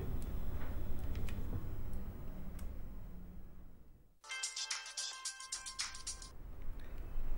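An outgoing phone call rings back in a quiet room, a bright electronic ringing tone that starts suddenly after a stretch of low background noise and repeats in short pulses for about two seconds, clear and close.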